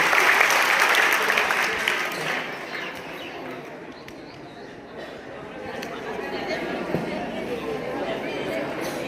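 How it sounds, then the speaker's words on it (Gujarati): Students in a school audience applaud a schoolgirl named Aarti at an anti-addiction play. Loud clapping at the start fades into a murmur of crowd chatter and voices, with pigeons cooing in the background. "આરતી માટે જોરદાર તાળી છે પેલા તો."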